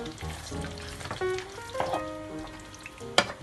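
Doodhi and pardhi sabzi being stirred in a pan with coriander, a soft sizzle and scrape of the spoon with a few clinks, one sharper knock near the end, no talking.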